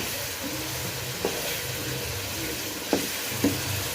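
Salted chatkhara dry masala chicken sizzles in a pan, a steady low frying hiss with a few sharp scrape or clink accents from stirring, fairly quiet and close, with no one talking.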